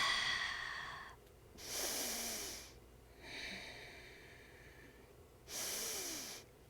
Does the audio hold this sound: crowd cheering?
no